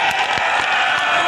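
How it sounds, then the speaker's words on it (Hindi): Crowd applause at a political rally in Saharanpur, Chilkana, a dense, steady wash of many hands clapping with occasional sharper claps, loud and continuous throughout the short stretch. "मैं चाहता हूं कि प्रियंका जी के स्वागत में एक ऐसी ताली बजे"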